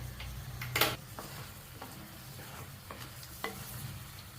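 Chicken sizzles quietly in a pan while a utensil stirs and scrapes with occasional clinks, soft and close.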